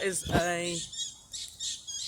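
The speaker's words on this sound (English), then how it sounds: "That is a collared kingfisher." At the Port Klang seaport in Malaysia, a collared kingfisher gives a sharp, loud squawking call, followed by fainter repeated chirps in the background.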